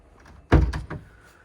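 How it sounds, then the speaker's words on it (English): A boat cabin door on a Jeanneau Leader 805 shuts with a solid wooden thunk followed by a couple of quick rattling knocks, alone in a quiet interior. "The doors are opening and closing well."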